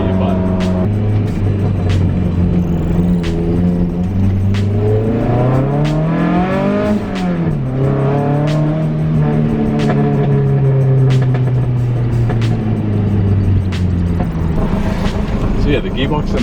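The engine of a project car with an R31 differential revs repeatedly, its pitch climbing and falling through several surges in a loud, close roar, while someone talks over it.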